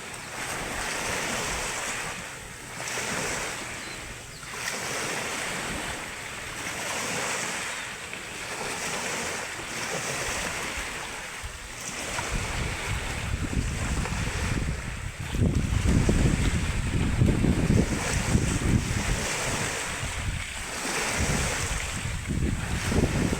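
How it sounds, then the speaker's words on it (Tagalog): Loud, noisy sea waves wash continuously onto a Palawan shore, with surf swelling and breaking in repeated surges and wind buffeting the microphone; the roar grows heavier in the second half. "ang alon guys, napakaingay"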